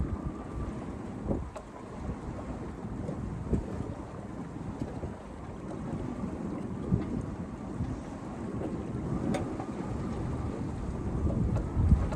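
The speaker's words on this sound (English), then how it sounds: "See how the wind picked up?" Wind blows across a sailboat during a sailing lesson, a soft, continuous rushing with low rumbling gusts and occasional faint knocks, steady and fairly quiet throughout.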